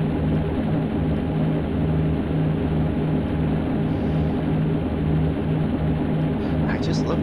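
A propeller airplane engine in the flight combat game Aces High, a steady droning roar that holds constant and loud for several seconds with no talk over it.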